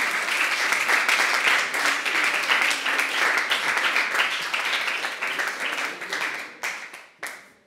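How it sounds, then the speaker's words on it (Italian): Lukewarm audience applause at a live on-stage music club show, a sustained patter of clapping that holds steady and then thins out into a few scattered final claps. "Il tiepido applauso di Via Novelli Social Club."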